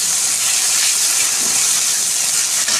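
Ground spice paste fries with pointed gourd in a pan, a loud, continuous close hiss of sizzling oil that stays even throughout.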